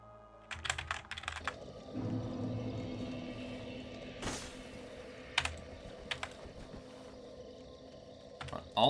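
Keys clatter on a computer keyboard with irregular bursts of clicks and taps, some sharp and close, over a low steady game background hum.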